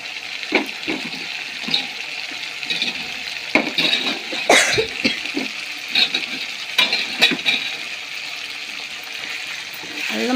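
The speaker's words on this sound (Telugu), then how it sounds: "అల్లం బాగా వేగాలి." Ginger fries in a pan in a home kitchen, with soft sizzling and repeated scraping clicks from stirring spread across the whole stretch.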